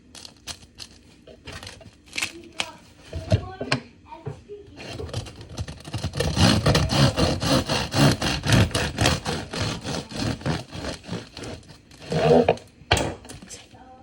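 A knife sawing through the crust of a still-warm loaf made from leftover baguette dough, with crackly crunching and rasping strokes that build into a steady run of cuts before tapering off.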